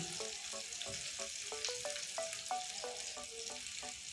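Fish roe being worked together with a little mustard oil by hand, giving a run of short, wet, squelching pulses in an uneven rhythm over a steady low hiss, close and fairly quiet, with no talking.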